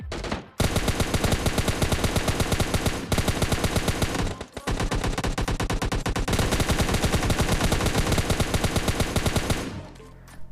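Automatic gunfire in PUBG Lite, loud and close, rattling rapid-fire bursts that run almost without pause for about ten seconds, with brief gaps between volleys and a fading tail at the end.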